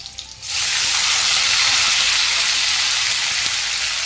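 A brief quiet sizzle, then a loud sudden hiss as a cup of water hits hot mustard-seed tempering oil, settling into a steady, roaring bubbling sizzle that continues to the end.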